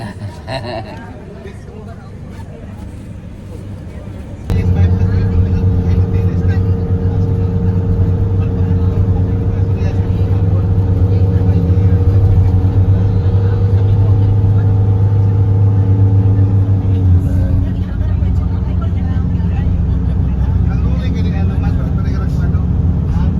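A motorcycle engine idles and drones loudly up close for several seconds, then drops off, with people talking throughout.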